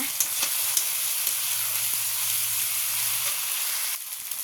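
Chopped tomatoes hitting a hot pan while cooking koi fish, a loud continuous crackling sizzle with small pops and stirring, close and steady, then easing slightly near the end, no voices.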